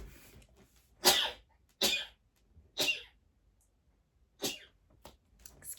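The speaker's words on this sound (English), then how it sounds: "oh, I'm going to sneeze." Several sharp, close sneezes burst out one after another, three in quick succession and then two more after a short gap, with quiet breathing between them.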